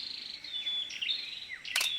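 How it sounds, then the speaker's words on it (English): Birds chirping in a Kinabatangan floodplain forest, faint high whistles and sliding notes from a distance, with a brief sharp click near the end. "Birds."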